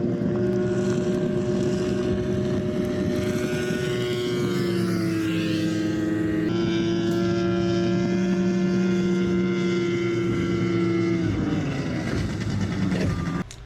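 A Delta race boat painted blue runs its engine steadily throughout, a loud, sustained motor drone with a constant low hum and some wind noise, no talking.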